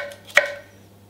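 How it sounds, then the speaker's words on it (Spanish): A knife slices through vegetables on a board, cutting them into sticks. There is a single crisp, close chop in an otherwise quiet moment. "También podemos cortar en bastones en este sentido."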